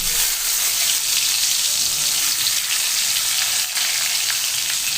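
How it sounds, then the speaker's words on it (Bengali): Eggplant slices frying in hot oil in a pan, a loud, continuous close-up sizzle and crackle that stays steady throughout, with no voices. "তেলটা গরম হয়ে গেছে, আমি এবারে বেগুনগুলো ভাজা করে নেব"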